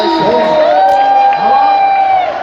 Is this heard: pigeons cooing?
no